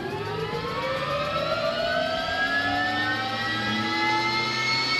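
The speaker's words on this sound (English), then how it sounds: "we're just about to get the engine started" A Robinson R66 helicopter's turbine engine spools up at Caernarfon in Wales, a loud steady whine rising gradually in pitch over a constant rumble, continuous and close throughout.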